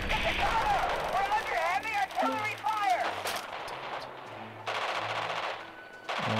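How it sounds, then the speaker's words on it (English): Artillery fire in the strategy game Radio General, deep distant booms and rattling gunfire beneath radio chatter and a whistling tone, loudest in the first half. "Sounds like more artillery."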